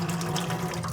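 Tap water pours steadily into a sink while sago is washed for cooking, a short, continuous splashing stream with no pauses.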